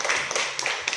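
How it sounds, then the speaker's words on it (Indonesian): Schoolchildren clap together in a classroom after a film lesson, a brief burst of close, busy hand claps with several louder peaks. "Mari tepuk tangan untuk kita semua."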